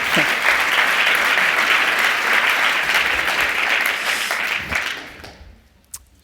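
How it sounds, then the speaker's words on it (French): Sustained, full applause from a meeting audience at a design event, even and dense for about five seconds before tapering off into quiet with one last isolated clap. "Je peux applaudir"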